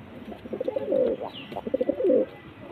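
Close by, a male pigeon among house-kept birds repeats a deep, burbling coo in two sustained phrases separated by a brief lull.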